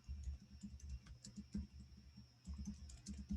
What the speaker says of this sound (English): I can type the title, Morphology